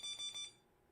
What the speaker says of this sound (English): There's my little alarm going off.